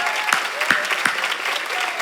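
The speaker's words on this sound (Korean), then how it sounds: "박수 세게 쳐주라고." A church congregation at a Sunday worship service breaks into steady, vigorous applause, with a few sharper claps standing out, and the sound fills the room.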